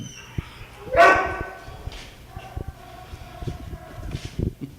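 A dog at a humane society shelter, one available for adoption, gives a single loud bark or yelp, with faint thumps and handling noises around it.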